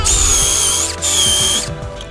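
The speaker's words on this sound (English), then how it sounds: "Just drilling out the holes with a 10mm spade bit." Two bursts of a high-pitched power drill whining as a 10mm spade bit bores holes for a mortise lock, each about three-quarters of a second, separated by a short pause.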